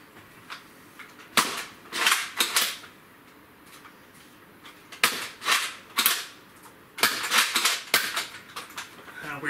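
Thrifted Nerf blasters, including a Zombie Strike rough cut shotgun, fired repeatedly, giving clusters of sharp snapping pops in quick bursts with short pauses between, close and fairly loud with no talk.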